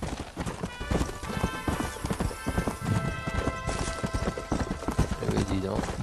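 Rhythmic hoofbeats of a galloping horse in Red Dead Redemption clop steadily throughout, with a brief whinny, while someone talks over the sound.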